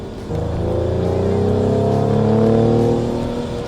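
A Mercedes-AMG GLE 53 Coupe with EQ Boost pulls away hard, its engine note climbing steadily through the revs with a loud, rasping exhaust that holds strong and close throughout.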